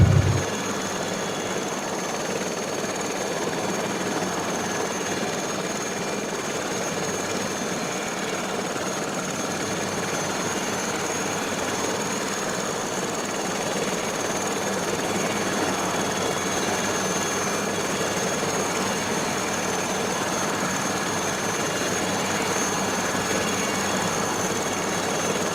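An SA315B Lama helicopter hover taxiing at low level over Lofoten, Norway, a steady loud drone of turbine whine and rotor thrum, unbroken and close throughout with no talk.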